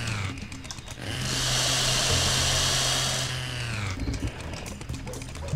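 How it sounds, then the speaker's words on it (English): Chainsaw in the Serious Sam HD video game, revved loudly for about three seconds as a steady high whine with low engine drone, then dropping back to a rougher idle. "Me chainsaw."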